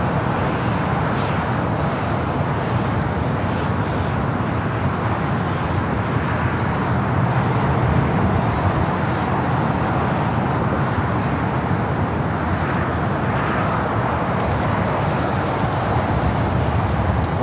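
China Airlines Cargo Boeing 777 freighter taxiing and turning at LAX, a steady broad engine rumble and whoosh that holds constant throughout, with road traffic noise mixed in.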